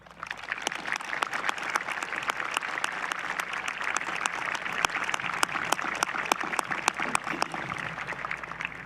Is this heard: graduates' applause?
yes